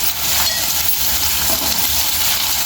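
Ginger garlic paste hits hot oil in a frying pan for Telugu-style taro root curry, giving a steady, even sizzle and hiss that runs throughout at moderate loudness, with no talking.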